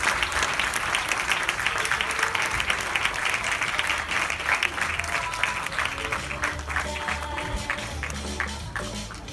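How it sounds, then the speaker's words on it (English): An audience claps at a kindergarten graduation ceremony, producing sustained, moderately loud applause that carries on for the whole stretch and thins slightly toward the end. "Can we all give them a big round of applause to each one of them?"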